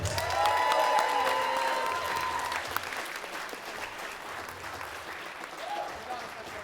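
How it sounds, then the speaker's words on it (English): Audience applause for the bronze medalist at a men's bench press and deadlift powerlifting competition, a steady loud burst of clapping at the start that tapers off gradually over several seconds. "give me a big round of applause to Jesse Moran."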